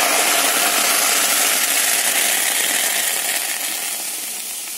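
Tomato puree cooks in a kadai for homemade tomato sauce, giving off a loud, steady broadband sizzling hiss that gradually softens toward the end.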